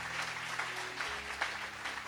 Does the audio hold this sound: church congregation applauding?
yes